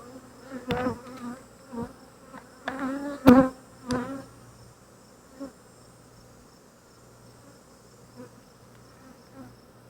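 Honeybees buzz around a Flow Hive during an inspection, several close, loud passes in the first few seconds, then fainter scattered buzzing over a quiet background.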